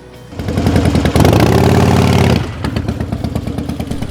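A motorcycle roars close by, its engine building quickly to a loud, steady drone that cuts off abruptly, leaving a fainter rattling idle afterward.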